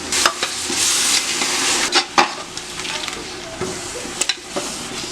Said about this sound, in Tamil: இதையும் நல்லா எண்ணெயிலேயே நல்லா வதக்கிடணும்